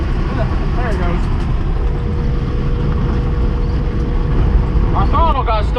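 A RAM 3500 pickup's Cummins diesel engine runs with its throttle stuck at full, producing a loud, steady, unbroken roar throughout while people talk over it.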